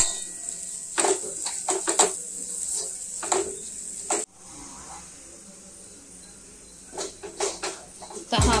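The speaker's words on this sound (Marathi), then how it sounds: "हे मसाले चांगले परतून घ्यायचे" Spices in onion, ginger and garlic paste with turmeric being sautéed in a pan, with soft sizzling under intermittent scraping and clinking of a utensil against the cookware, pausing midway before stirring resumes.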